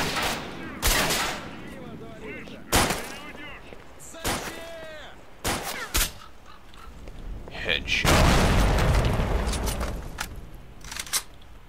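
A gunfight in the video game STALKER, with several loud separate gunshots and short bursts spaced through the clip and a heavier stretch of fire midway, while someone talks between the shots.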